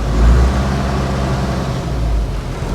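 The engine of a 60-year-old Diamond Reo 6x6 recovery truck idles at close range with a steady, low, even rumble.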